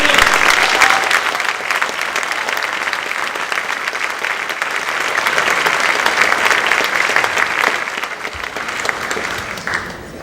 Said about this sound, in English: let's give a round of applause to these outstanding social studies students